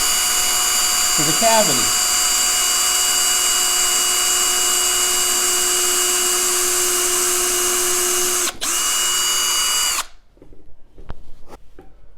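A power drill whines steadily at high speed for about ten seconds while drilling through wood on an electric guitar build, then cuts off abruptly, leaving a few faint clicks and a brief spoken remark.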